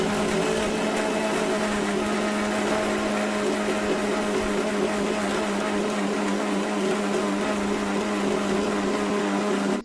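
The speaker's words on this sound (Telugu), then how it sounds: "పచ్చివే వేసేసి అందులో మళ్ళీ ఒకసారి బ్లెండ్ చేసేస్తాం అనమాట" An electric blender whirs loudly and steadily as it purees raw star fruit pieces for chutney. The motor gives a constant droning hum with a grinding buzz over it and cuts off at the very end.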